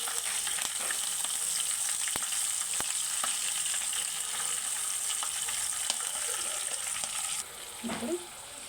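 Green chillies fry in hot oil with cumin and curry leaves for an egg and drumstick pulusu, making a continuous close sizzle dotted with small pops and ticks, which quiets near the end.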